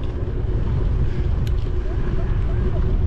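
Wind roars and buffets steadily against the microphone during an outdoor ride, a dense low rumble that stays loud and unbroken throughout.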